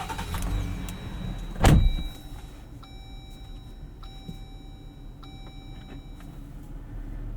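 2024 Jeep Gladiator Mojave X starting up from inside the cab; a short starter crank catches into a quiet idle, followed by a series of soft dash chimes and beeps over the low engine hum.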